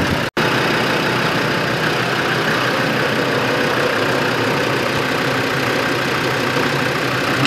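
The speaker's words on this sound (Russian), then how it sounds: "Двигатель пока не стал глушить." A Land Rover Defender engine idles steadily and loudly nearby, a continuous low rumble with a brief dropout near the start and no voices.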